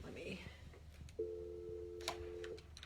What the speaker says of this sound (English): As my phone rings just as I log on.